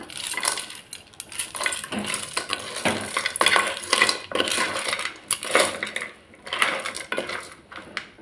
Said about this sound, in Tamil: கல்கண்டு ஒரு கிண்டு கிண்டி விட்டுருவோம்